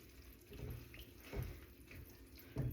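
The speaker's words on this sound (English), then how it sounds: "I'm just going to swill out the tin with a little bit of that pasta cooking water" Pasta cooking water swills around inside an emptied tin in a kitchen, giving soft sloshing and gurgling bursts with brief splashes at intervals, quiet and close.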